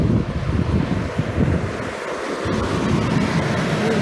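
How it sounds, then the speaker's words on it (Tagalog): Sea waves wash along the Corniche seaside in Abu Dhabi, a steady rolling surf heavily buffeted by wind noise on the microphone, loud and continuous with no speech. "Corniche, ang ibig sabihin, tabi ng dagat."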